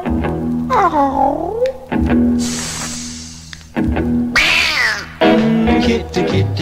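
Drawn-out, wavering meows recur several times, loud and close, over a 1950s-60s rock and roll novelty song backing, with a hiss in between.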